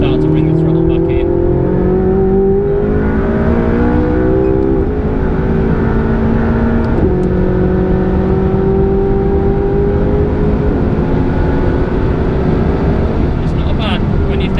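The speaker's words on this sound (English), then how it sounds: "that's a full-blown race car on slicks" McLaren 675LT race car on slicks accelerating around a track, its engine note climbing steadily and loud throughout, heard from on board with a voice talking over it.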